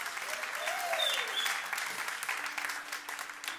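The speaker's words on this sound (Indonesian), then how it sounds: "Tepuk tangan, saudara." A church congregation at a Christmas celebration applauds, a moderate wash of clapping with a voice calling out briefly over it near the start.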